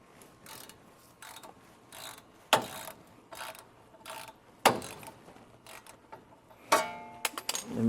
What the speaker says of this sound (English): now we're gonna torque this nut